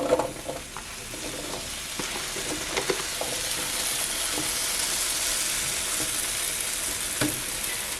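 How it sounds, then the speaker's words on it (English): Small potato pieces for home fries fry in butter on an electric press grill, giving a steady, close sizzle with a few scraping and tapping sounds early on. "On the right side, I am going to make some home fries. So I'm just going to put some butter on it."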